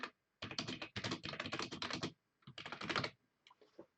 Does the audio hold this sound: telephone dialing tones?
no